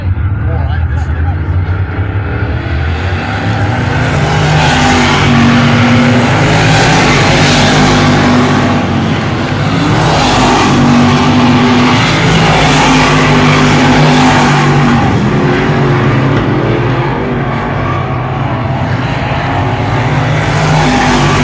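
Race cars running hot laps at Albany-Saratoga Speedway, a steady loud roar of engines throughout with repeated swells as cars pass, crowd noise and announcer-style talk mixed in underneath.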